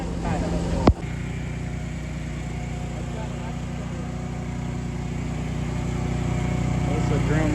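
A concrete mixer drum powered by a Kohler motor turns steadily after a sharp clunk, producing a constant loud engine drone with mechanical hum that builds slightly toward the end.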